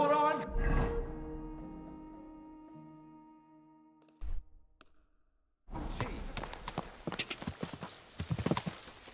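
Horse hooves galloping in Kingdom Come: Deliverance 2, starting after a sustained musical swell and a short silence, then a fast run of loud, close hoof strikes over the last few seconds.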